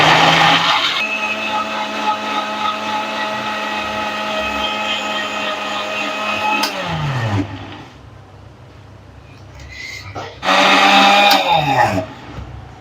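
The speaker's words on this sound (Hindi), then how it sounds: "अब हम इसको सेट कर देंगे, इसकी मशीन पे लगा देंगे। अच्छा, तो अब इसको हम ग्राइंड करेंगे।" An electric blender grinding watermelon into juice, a loud close motor whine that winds down to silence and then briefly starts again, with no voices.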